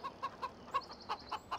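Chickens on a farm in the Upper Mississippi River Valley, a quick run of about eight short clucks in a regular rhythm, close and fairly clear, with no talking.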